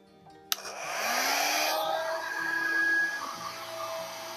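A hair dryer switched to its high setting, used without its concentrator nozzle to blow paint across a canvas in a Dutch pour, kicks on with a click and then whooshes steadily and loudly, its whine shifting in pitch partway through.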